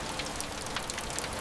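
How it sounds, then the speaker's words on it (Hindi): Steady rain falling, a soft even hiss of drops on surfaces throughout, fairly faint with no voices. "और आज फिर बारिश हो रही है।"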